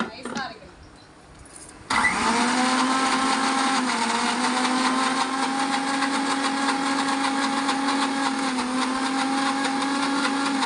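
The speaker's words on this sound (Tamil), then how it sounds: "குறவரன்னு அரைக்கணுமா இல்லை நைஸாக அரைக்கணுமா?" An electric mixer grinder starts with a sharp jump after a quieter moment, then whirs loudly and steadily as it grinds ingredients, holding a constant high motor drone.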